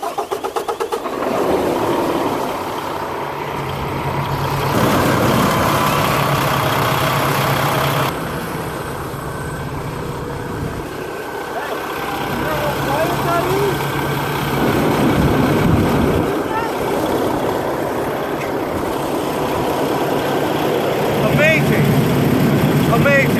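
A 2015 Peterbilt 579 truck with an MX-13 diesel engine cranks over and settles into a steady, loud idle that runs throughout, with people talking over the engine noise.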